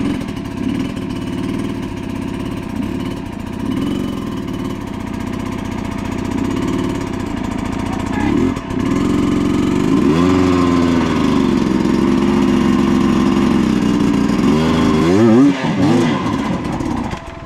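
A motorcycle engine labours uphill in a steady, loud drone, its pitch wavering and climbing toward the end, with brief voices in the background.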